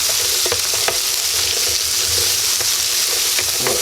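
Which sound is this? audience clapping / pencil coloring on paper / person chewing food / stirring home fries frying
stirring home fries frying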